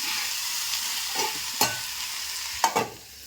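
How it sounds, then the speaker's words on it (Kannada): Onions and green chillies fry in a pan with a steady, hissing sizzle, broken by a few sharp clacks of stirring. "ಈಗ ನೋಡ್ರಿ ಇವ ಉಳ್ಳಾಗಡ್ಡಿ ಮೆಣಸಿನ್ಕಾಯಿ ಪರ್ಯ ಎಲ್ಲ ಫ್ರೈ ಆಗ್ಲತ್ತಾವ"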